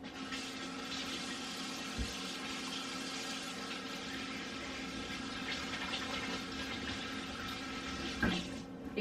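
Tap water runs steadily into a sink during handwashing, a faint continuous splashing hiss with a couple of small knocks.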